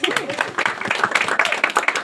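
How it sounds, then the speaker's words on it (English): A small gathering at a book launch gives a brief round of applause, a couple of seconds of scattered, uneven clapping with murmured voices underneath. "I think that needs a round of applause."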